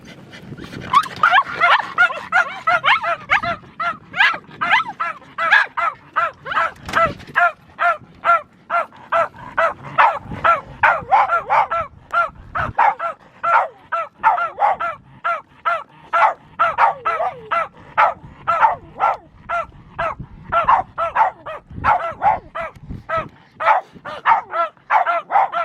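A dog barks and whimpers nonstop in rapid, close, loud bursts while being fitted into a life jacket at a lake, with brief human sounds underneath.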